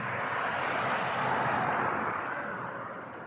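Road traffic in Dubai, a broad, continuous whoosh of cars speeding past that swells near the middle and fades slightly at the end, with no talking.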